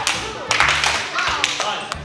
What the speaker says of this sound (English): Just one clap but catch with one hand.